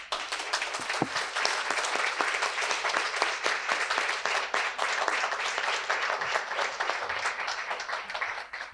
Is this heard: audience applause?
yes